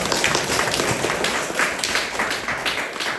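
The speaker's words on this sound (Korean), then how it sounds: "박수" A ceremonial audience at a horse-history guide graduation event in Jeju keeps up a steady wash of clapping for several seconds, dense and fairly loud, with no voices standing out.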